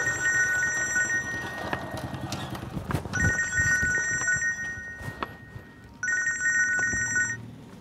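A mobile phone rings in three repeated bursts of bright electronic trilling tones, loud and close, over a busy street with a motorbike and background noise.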